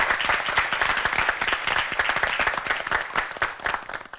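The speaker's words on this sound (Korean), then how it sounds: "박수로 함께 해주시죠" Dense, steady applause from a debate audience at a Korean high school debate competition, many hands clapping together loudly and continuously with no one speaking.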